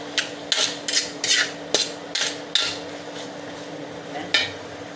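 Pancit miki bihon noodles being stirred in a metal pan, giving a run of sharp scraping and clanking utensil strikes in uneven bursts, fairly close, with no talking.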